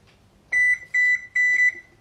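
An oven control panel gives three short, clear electronic beeps in quick succession while being set to bake at 375 and preheat, close and alone in a quiet kitchen.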